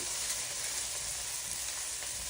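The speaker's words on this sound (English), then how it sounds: "We got a little popping, so we'll have some sprinkles on the stove." Hot oil sizzles and pops steadily in a pan of frying chicken thighs, a close, even hiss with small crackles and no talking.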